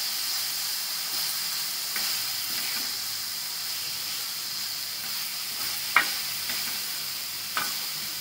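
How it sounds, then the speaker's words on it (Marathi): Grated bitter gourd sizzles and steams while being stirred and roasted on an iron tawa over medium flame, a constant soft frying hiss broken by a few light scraping clicks of the spatula. "मीडियम फ्लेमवरती सतत हलवत राहू आणि भाजून घेऊ कारलं चांगलं।"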